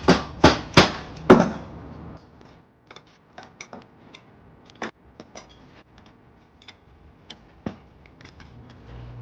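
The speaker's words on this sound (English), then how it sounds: "you might have to hit it with a dead blow hammer" Four sharp, heavy dead blow hammer blows on metal steering parts in quick succession, followed by scattered lighter taps and clicks spread out over quiet stretches.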